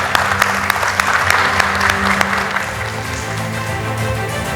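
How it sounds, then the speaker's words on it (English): A room of teachers at a critical-thinking workshop applauds a participant, with sharp individual claps standing out near the start over a steady round of clapping, alongside some background murmur and a faint musical tone. "Give big round of applause."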